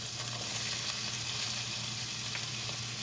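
Onion and coriander stems crackle in hot tempering oil with a soft, steady, even hiss heard close but quietly, with no voices.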